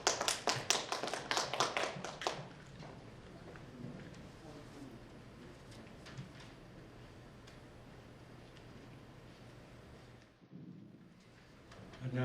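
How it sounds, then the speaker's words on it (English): Applause rises from a conference audience at the opening ceremony of an international safety tourism conference, with a burst of clapping in the first couple of seconds that thins into scattered claps and room murmur, then fades before the speaker begins. "Please welcome him with a big applause."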